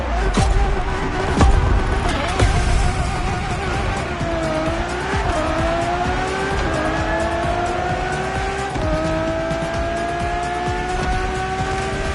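Ferrari Enzo supercar engine revving hard through several rising gear sweeps with tires squealing, loud and continuous, a few sharp skids early on.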